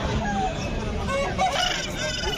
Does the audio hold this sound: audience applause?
no